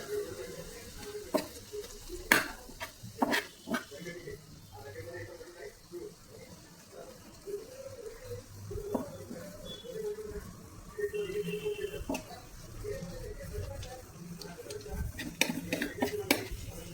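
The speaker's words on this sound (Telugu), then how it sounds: "ఈ ఎగ్స్ని పక్కన పెట్టేసి టమాటోని గుజ్జుగా చేస్తున్నాను" Tomatoes being mashed into a pulp on a hot tawa for a tomato egg fry, with scraping and stirring clicks against the pan over a steady sizzle, close by and fairly quiet.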